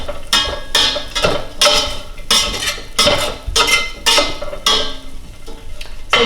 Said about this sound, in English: Just give that a nice little stir.